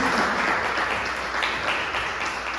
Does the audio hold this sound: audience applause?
yes